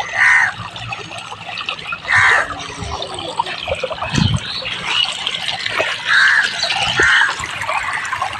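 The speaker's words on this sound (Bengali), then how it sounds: "এই জলটা যাচ্ছে কত সুন্দর।" Water running from one pond into another pond a foot lower, a steady trickling flow heard close by, with someone talking over it now and then.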